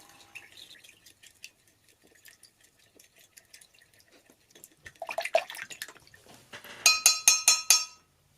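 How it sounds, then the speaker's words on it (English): A spoon stirs a teaspoon of borax into a cup of warm water, with small clinks and drips of liquid at first, then a busier swirl and a run of sharp, rhythmic taps against the glass cup. "add your 1 teaspoon of borax to the water and mix it until the borax has"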